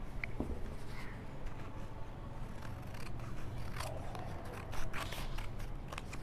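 Scissors snip through paper for an origami craft, a series of soft close crisp cuts and rustles at low level, with no talking.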